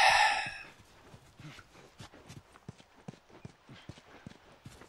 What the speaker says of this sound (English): running around and you are sitting on a horse.